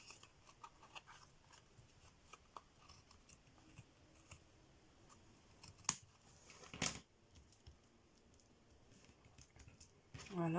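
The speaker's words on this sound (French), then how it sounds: "ce que je vais venir faire, c'est que je vais venir découper ce qui dépasse" Scissors snip off excess material on a craft piece before glue and varnish are applied: a few faint, sparse cuts against a quiet background with a low murmur.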